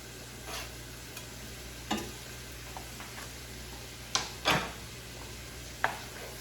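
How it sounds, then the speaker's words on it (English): Finely chopped yellow onion added to browned ground meat in a pan for baked penne, a soft steady sizzle broken by a few sharp scrapes and clinks of a spoon stirring against the pan. "And now we're going to add our onions."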